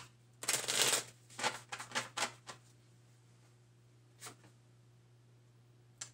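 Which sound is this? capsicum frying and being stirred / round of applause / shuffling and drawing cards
shuffling and drawing cards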